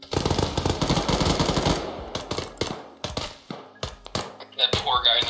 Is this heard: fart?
no